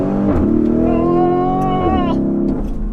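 The exhaust of an 800+ horsepower Mansory-tuned Lamborghini Urus gurgles and burbles through a downshift, a loud rising and falling engine note heard close by.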